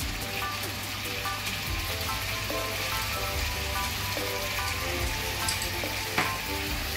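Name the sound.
sauce sizzling in a pan for steamed butter fish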